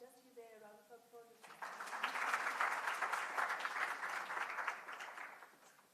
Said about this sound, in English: If you can just use a round of applause